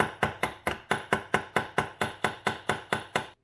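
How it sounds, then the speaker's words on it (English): A ball peen hammer strikes a copper nail rivet on an Oyster watch band, sounding as about thirteen evenly spaced sharp metallic taps over a few seconds, close and clear with nothing else heard. "Take the ball end of a ball peen hammer,"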